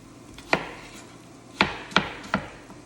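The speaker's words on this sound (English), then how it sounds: "once I'm done chopping this apple" A knife chops an apple on a cutting board in a home kitchen, giving four sharp, distinct knocks spaced unevenly over a few seconds, close and fairly loud against a quiet background.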